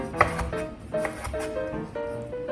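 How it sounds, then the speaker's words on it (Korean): A knife chops a green bell pepper into squares on a cutting board, giving a few quick close taps against steady kitchen background noise. "청피망도 네모 모양으로 썰고"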